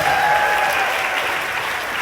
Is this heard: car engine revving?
no